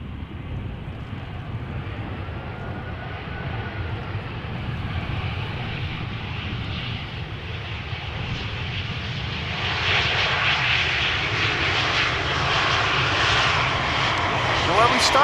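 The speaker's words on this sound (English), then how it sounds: "This is an EasyJet A319 arriving from London Stansted." An EasyJet A319 jet airliner arriving at Amsterdam Schiphol from London Stansted roars loud and close, its engine rumble and whine swelling steadily as it approaches in windy conditions.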